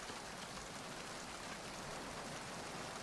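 Steady, dense rain falls in the Metal Gear Solid 2: Substance game, an even hiss of drops with no breaks or voices.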